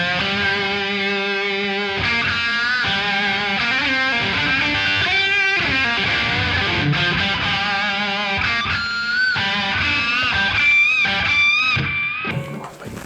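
Heavily distorted electric guitar through a Victory V1 The Kraken high-gain preamp pedal plays sustained chords and bending lead notes, thick and saturated, continuous for the whole stretch with no voices.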